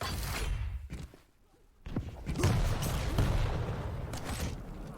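In a Quake match, a sharp railgun shot and impact stand out among dense weapon fire and thuds, played loud with a brief lull near the middle, and no voices are heard.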